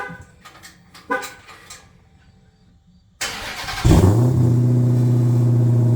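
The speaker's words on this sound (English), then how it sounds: "Here's the exhaust note." A Dodge Challenger Hellcat Redeye engine fires up and settles into a loud, deep, rumbling idle after a few quieter clicks and knocks.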